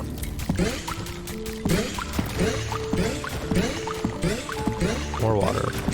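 Water pours in the Dome Keeper video game, a run of bright splashing and trickling game effects under steady talk from a player.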